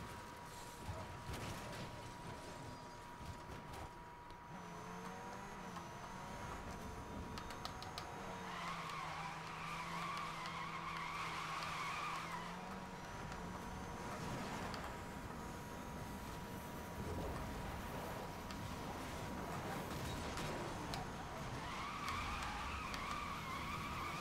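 A car drifting in a racing video game, with a continuous engine drone and long stretches of tire skidding and squeal that rise and fall, no voices.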